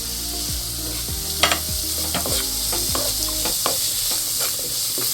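Onions and curry leaves sauté in a pan with a bright steady sizzle, while a spoon makes regular scraping strokes and a few sharper clinks, close and loud.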